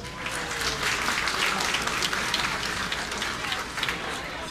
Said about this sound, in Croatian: i za našu Anesu i za one koji su je podržali, isto jedan aplauz